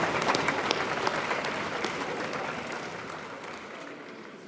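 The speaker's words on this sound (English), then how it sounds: "Please give him a huge round of applause." Applause from a crowd at a party leadership election event, dense and sustained clapping that starts strong and slowly fades over several seconds, heard alone.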